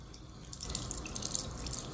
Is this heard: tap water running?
yes